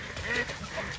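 Ducks quack and squawk close by in a short, busy burst mixed with rustling noise.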